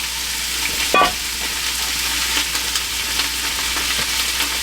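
Onions and peppers sizzle steadily in hot grease for a brisket chili, with a short scrape of a wooden spoon near the start as they are stirred; the crackling hiss runs on, close and fairly loud, with no talking.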